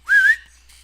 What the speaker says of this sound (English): The Irishman whistled.